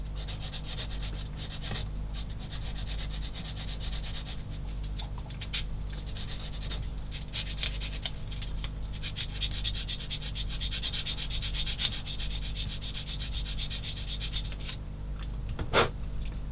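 A cut-off plastic part from a 1/16 scale Takom M10 Achilles tank destroyer model kit is cleaned up with a file or sanding tool, giving a steady close scraping and rubbing that runs throughout, ending in a brief sharper scratch.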